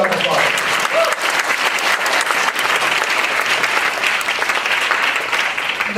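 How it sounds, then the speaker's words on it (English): An audience claps at a 2012 Georgetown Asian Heritage graduation ceremony, a loud, dense, continuous round of applause filling the hall for about six seconds. "So let's give another round of applause."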